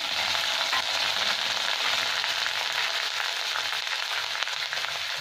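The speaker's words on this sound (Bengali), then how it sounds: "এখানে আমার আদা রসুনটা ভালো ভাজা হয়ে গেছে।" Ginger garlic paste frying in a pan for egg biryani, a continuous close sizzle with fine crackling and a few faint stirring scrapes.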